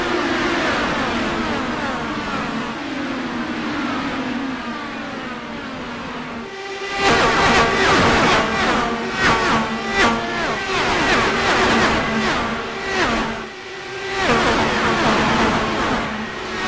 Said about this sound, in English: these race cars sound like absolute monsters